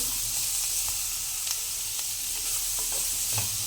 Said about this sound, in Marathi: नूडल्समध्ये भाज्या शिजवत नसल्यामुळे आपण हे चरचरीत होईपर्यंत आपण ते ठेवायचं आहे